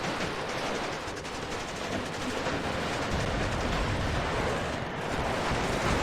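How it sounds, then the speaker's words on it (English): Soviet machine guns firing in the WARNO war game, a dense continuous roar of automatic fire mixed with explosions and battle noise, loud and steady throughout with no talking. "all of the Soviet machine guns now sound really cool"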